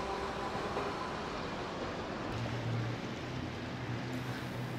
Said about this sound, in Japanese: 桃の名称で呼ばれる車体の低い低床式路面電車